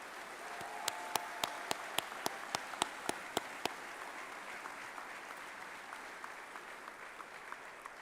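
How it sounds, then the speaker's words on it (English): Graduation audience at a high school commencement applauding faculty and staff, a broad distant crowd clapping steadily with several sharp near claps in a regular rhythm early on, continuing as a soft sustained patter. "Can we please have a round of applause for our outstanding faculty and staff for their work with you over the past 4 years."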